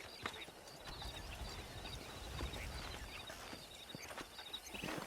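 Horse hooves clip-clop in a Western video game, a soft continuous patter of steps under ambient game sound, fairly faint and steady with no talking.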